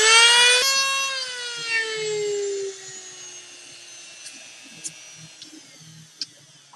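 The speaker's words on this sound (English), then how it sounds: "Might as well clean it up a little bit with the Dremel tool." A Dremel rotary tool cleans up a fresh cut on an M14 rifle build part, its high-pitched whine loud at first, then dropping in pitch and fading as it spins down, with small taps and clicks afterward.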